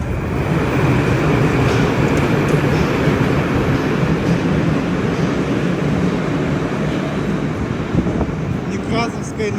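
A Moscow metro train runs along the Nekrasovskaya line, a loud steady rumble of wheels and carriage noise heard from inside the car, with no pauses throughout.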